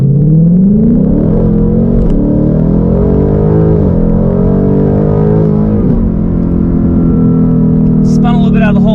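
A car launches hard from a stop on a 0-60 run on a chilly afternoon with factory tires, its engine rumbling and climbing steadily in pitch, loud and close inside the cabin, with a few faint clicks near the end.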